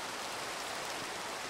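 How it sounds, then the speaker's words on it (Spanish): Steady rain hisses across a Minecraft SkyBlock world, a dense, even wash of falling drops with no breaks and no voices over it. "me encantaría poder hacer pasar la lluvia"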